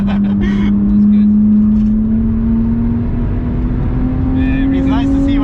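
BMW 1M Coupe engine at high speed on the Nurburgring, a steady loud drone with slowly rising pitch, heard from inside the car with brief voices over it.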